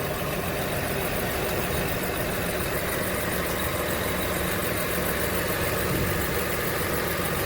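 A 2005 Toyota Highlander 3.3 V6 VVTi idles with the air conditioning on, making a steady, even hum with fan-like rushing noise throughout and no change in level.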